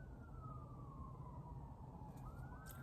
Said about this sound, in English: All these sirens.